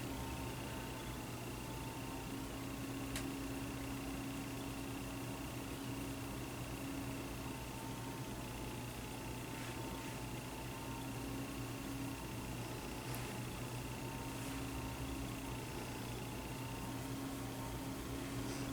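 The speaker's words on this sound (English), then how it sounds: "I'm not sure if you can hear my computer in the background" Struggling computer fan humming in a quiet room, a faint, continuous whir with a steady tonal whine and a few tiny clicks, heard alone without talk.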